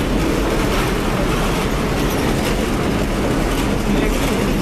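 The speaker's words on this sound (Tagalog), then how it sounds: "So ayun o, yung train sa harap." LRT-1 light rail train near Balintawak and Grand Central in Manila, a steady loud rumble of the train running on the line, continuous throughout with no talk.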